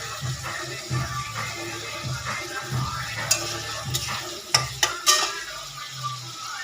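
Shrimp and taro stolons fry in a pan on a steady low sizzle, with a few sharp clinks of a utensil against the pan and occasional stirring scrapes.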